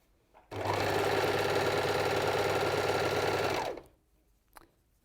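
An overlocker stitches fabric into a scarf loop, running in one steady, loud, fast-whirring burst of about three seconds before stopping, followed by a faint click.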